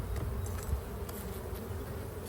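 A steady, close hum of honeybees circles a backyard hive, with individual bees buzzing past now and then over the low drone of the colony.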